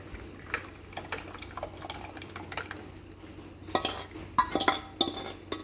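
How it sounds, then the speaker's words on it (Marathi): Dal added to a pot of hot water for a spiced amti curry and stirred with a spoon. Light clinks and scrapes of metal against the pot come in irregular bursts, growing louder and busier toward the end, with no talking. "आता ह्याच्यात आपण डाळ टाकून घेऊया."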